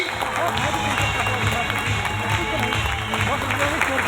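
A crowd at a network marketing event breaks into loud, dense applause that runs steadily all the way through, with a voice talking over the clapping.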